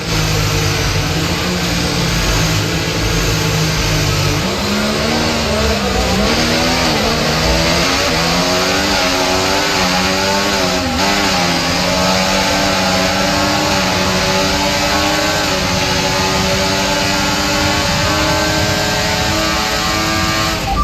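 Formula 1 cars in the F1 24 racing game accelerate hard after a safety car period, a continuous loud engine whine rising and shifting in pitch as the revs climb through gears, steady throughout with no talk.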